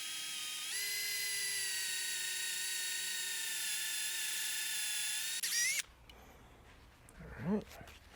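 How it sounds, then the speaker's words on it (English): A high-pitched drill whines steadily for several seconds at close range, boring into a plastic shifter nub on a VW, then stops abruptly, leaving faint handling noise and a short voice. "We're going to drill into this nub down about 1/2 inch."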